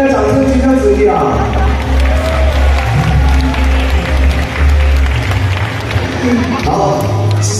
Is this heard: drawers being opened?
no